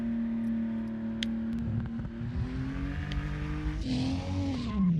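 A Nissan Skyline race car engine in a racing video game drones and revs steadily, shifting pitch through acceleration, with a brief tire squeal, no voices.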